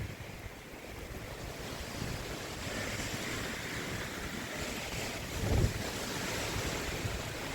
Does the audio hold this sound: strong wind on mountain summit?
yes